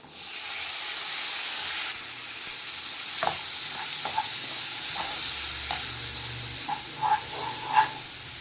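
Tomatoes and vegetables sauté in a pan for noodles, giving a steady soft sizzle with occasional stirring scrapes and clinks. No talk is heard.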